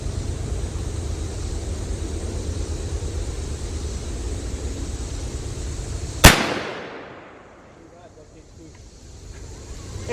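A shotgun fires a single 3-inch Winchester XR Long Beard turkey load, one sharp loud blast that rings out and decays after steady background wind or noise.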